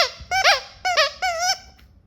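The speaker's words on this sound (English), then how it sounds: "Make it squeak." A dog's rubber ducky squeak toy squeaks in three distinct bursts, each a quick pair of high, wavering squeaks, close and loud with brief pauses between.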